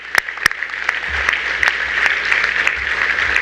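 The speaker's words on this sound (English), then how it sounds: "So please give yourself a round of applause." Parents and guests applauding at a high school senior awards and scholarships ceremony, a few sharp claps first, then sustained, fairly loud clapping from a crowd that carries on without talk.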